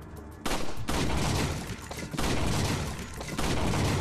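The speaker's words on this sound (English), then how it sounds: "Let's start with the handgun." Handgun shots fired in Resident Evil 4 VR ring out as a loud, dense burst of gunfire with heavy booming reports, following a brief quiet opening and continuing steadily to the end.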